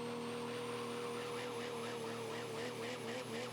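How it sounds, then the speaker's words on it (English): A diesel super stock pulling truck at a truck-pull competition builds boost, its turbo giving off a thin, steady high whistle over the loud, continuous engine roar. "there's a slight whistle in that turbo right there"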